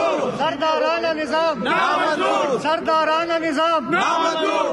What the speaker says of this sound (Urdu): یہ ہنگامہ ہے سندھ اسمبلی کا